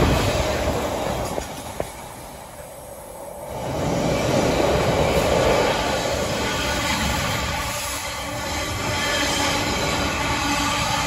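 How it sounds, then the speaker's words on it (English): A freight train hauled by two class 90 locomotives rolls through Preston station at night, a loud continuous rumble of wagons with clanking wheels and squeal, swelling and easing over several seconds. "This is the last freight train of the night,"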